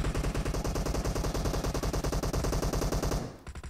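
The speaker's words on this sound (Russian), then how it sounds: "он стрелял с вышки" Rapid automatic gunfire from the shooter video game Metro Royale, a loud, dense, evenly spaced burst of shots lasting about three seconds before cutting off, with a few fainter shots after.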